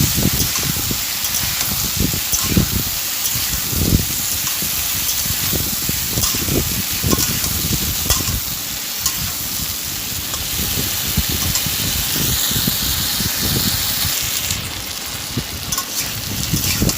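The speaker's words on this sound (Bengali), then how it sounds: "দিয়ে আমি এইটা ঢাকা দিয়ে ভেজে নেব।" Potatoes, pointed gourd and homemade bori fry under a lid in a pan with sesame, giving a loud, continuous dense sizzle with crackling spatter throughout.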